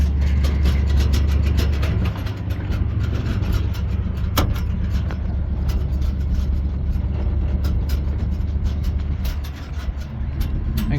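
A 1967 Chevrolet C40 work truck pulls forward while unloading material from a trailer, its engine giving a steady, close, heavy low rumble that holds level throughout, with faint mechanical clatter on top.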